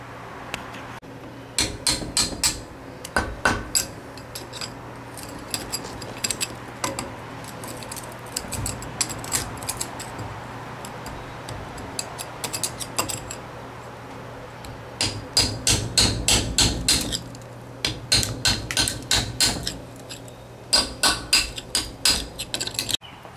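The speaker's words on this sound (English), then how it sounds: "I'm just going to have to chisel some of the cement around here and clean it up" A hammer drives a chisel into cement around a water fountain, giving bursts of rapid, sharp metallic strikes close by, with short pauses between the flurries.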